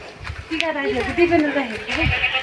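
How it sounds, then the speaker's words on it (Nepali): A goat that has been eating maize bleats in a long wavering call, fairly close and loud, while a person talks over it. "बाख्राले मकै खाएछ"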